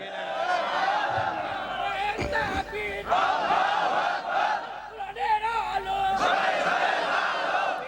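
A crowd shouting takbir in response, a loud massed chant of many voices rising together in sustained bursts, with a single voice calling out between the swells.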